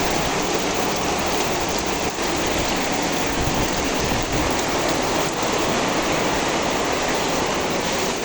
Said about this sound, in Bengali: বৃষ্টি তো অবশ্যই শুনতে পাচ্ছেন